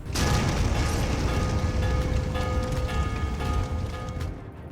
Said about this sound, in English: One of the shells finds its mark, destroying a battery of light guns and causing yet another fire.